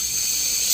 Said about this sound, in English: And use some compressed air to get it up in there, get it inside the crack.